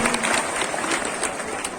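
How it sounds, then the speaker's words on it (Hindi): At a welcome for a member of parliament at a yoga society gathering, a crowd claps in a dense, continuous patter, with voices mixed in beneath the applause. "पदाधिकारी माननीय सांसद जी का स्वागत करते हुए जोरदार तालियों से स्वागत करेंगे"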